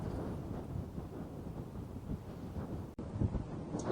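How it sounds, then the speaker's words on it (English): Strong wind buffets the microphone on a golf course, a continuous low rumbling roar with gusty swells and a brief dropout near the end. "wind is pretty crazy right now"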